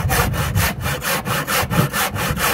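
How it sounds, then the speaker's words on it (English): A handsaw cuts through the wooden framework of an old writing desk, a loud, close, rhythmic rasp of about ten even back-and-forth strokes with no talking. "I just cut through each side with the handsaw through the framework"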